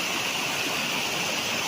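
Spring water flows on a farm lot in Lucban, Quezon, a continuous, even rushing and gurgling that stays steady and moderately loud with no voices over it.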